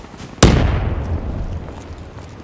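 A grenade goes off in the Black Ops 3 multiplayer beta: one sharp, loud blast, followed by a long rumbling tail that slowly fades.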